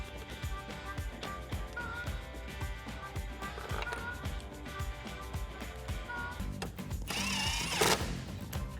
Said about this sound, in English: we can take our T45 Torx bit and tighten that down